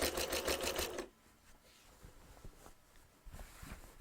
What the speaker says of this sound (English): I'm going to go ahead and lower my presser foot. Make sure once again I'm all flat. Yep. And I'm just going to go ahead and keep stitching.